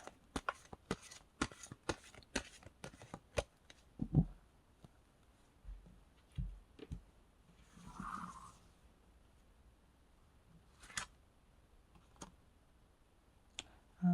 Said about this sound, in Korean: 오늘은 미스티컬 모먼츠 카드로 조언 카드를 한번 뽑아보도록 하겠습니다.